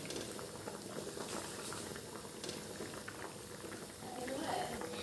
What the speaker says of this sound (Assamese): আৰু এয়া এতিয়া মাছখিনি দি দিলোঁ আৰু এইখিনি উতলিব দিছোঁ